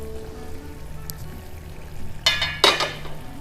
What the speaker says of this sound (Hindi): इसको थोड़ी देर हम भूनेंगे इसी तरह ही, ये 5 मिनट हम भूनते हैं